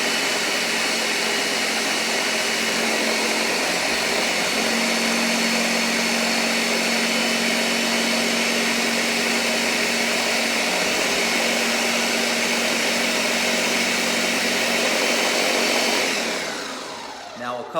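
A blender runs on high pureeing pumpkin soup with garlic and onion, a loud, steady motor whir holding constant for most of the stretch before winding down at the end.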